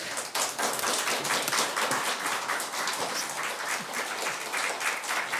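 Enthusiastic applause from a church congregation, dense steady clapping filling the room for several seconds with no speech.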